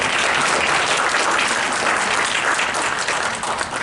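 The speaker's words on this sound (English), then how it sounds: "You give her a round of applause." A dense, steady round of applause from an audience at a library history panel, loud and continuous without a break.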